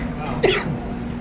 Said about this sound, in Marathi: हा खोकला येतो ना कारखाना चालू ना